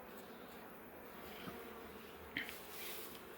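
Honey bees hum over a frame of solid capped honey, a soft, steady drone close by with a couple of brief louder passes.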